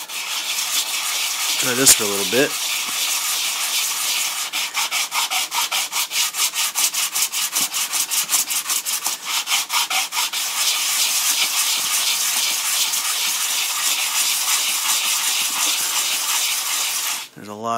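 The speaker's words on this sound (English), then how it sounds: "I took the radar eye and I turned it upside down and was sanding it like this" Resin R2-D2 radar eye being hand sanded upside down, a steady close scraping rub with fast rhythmic back-and-forth strokes for most of the clip, while a voice speaks briefly near the start.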